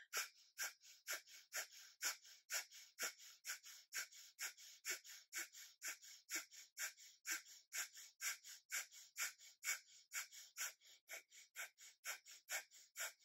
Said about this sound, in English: So you're just going to breathe in and out through your nose.